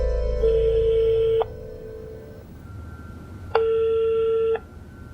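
A phone being dialed and ringing: two long ringback tones with steady harmonic stacks sound clearly, separated by a pause, over a low background hum with no voices.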